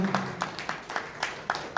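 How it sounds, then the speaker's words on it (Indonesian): Worshippers at a Sunday church service clap in a faint, evenly spaced beat, about four claps per second, distant and alone without voices. "Tepuk tangan lebih baik bagi anak."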